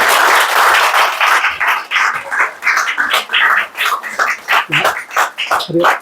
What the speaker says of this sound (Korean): 일단 박수 한번 크게 부탁드립니다.